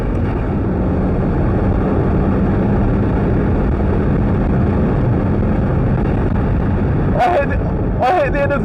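A turbocharged Mazda MX-5 accelerates at speed on a wet race circuit, giving a loud constant engine and wind roar throughout, with a couple of short sharp squeaks near the end.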